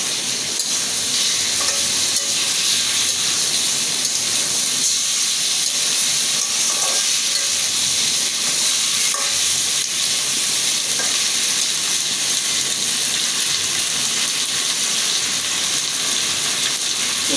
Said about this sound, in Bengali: এটার ভিতরে একটু আদা রসুন বাটা দিয়ে দিলাম।